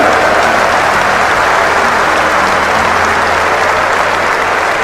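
Steady, loud audience applause from a crowd at a motivational talk, continuous and dense throughout with no pause.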